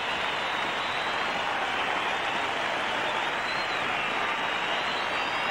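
Steady applause from a cricket Test crowd greeting Greg Chappell's half-century in Australia versus Pakistan, 1984, a dense continuous wash of clapping and crowd noise at even loudness throughout.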